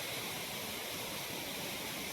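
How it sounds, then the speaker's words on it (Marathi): A waterfall gives a soft, even rush of falling water that carries on without change and sounds faint and distant. "हा बघा माझ्या पाठी धबधबा आहे कसला मस्त दिसतो"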